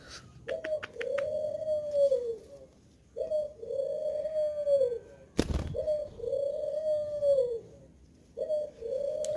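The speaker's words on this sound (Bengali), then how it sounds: "গাইস আপনারা হয়তো বা বলতেছেন যে ঘুঘু পাখির ডাক কোথা থেকে আসতেছে" Australian doves kept at home coo in a slow repeating pattern, four drawn-out mellow calls spaced a couple of seconds apart, close and clear, with a sharp knock interrupting midway.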